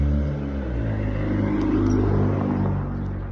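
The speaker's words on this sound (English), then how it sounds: "I'll let this car pass, hold on." A passing car on a road gives a steady low rumble with a faint whine on top, holding fairly even and close for a few seconds, with no talking.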